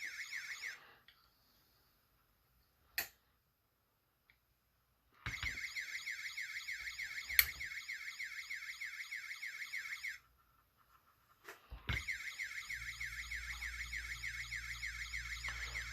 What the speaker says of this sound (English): But the alarm doesn't stay on very long.